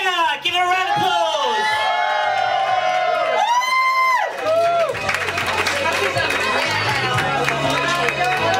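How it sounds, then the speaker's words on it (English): An audience at a Birmingham pageant heat cheers and whoops loudly for a contestant, high shouts and screams sweeping over clapping, then settling into rowdy applause with voices mixed in. "Give her a round of applause."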